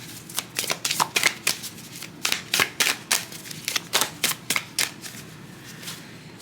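Tarot cards being shuffled by hand, a close, crisp series of riffling snaps in irregular bursts, around twenty quick flutters across several seconds with soft rustling between them.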